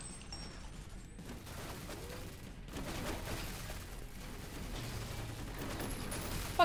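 Sustained gunfire from turrets in the shooter game F.E.A.R. Perseus Mandate, a dense, steady rattle of shots filling the whole stretch at moderate level, with no talk over it.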